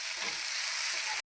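Tomato and onion sauté in hot oil, giving a steady close sizzle that drops into a brief silence near the end before resuming.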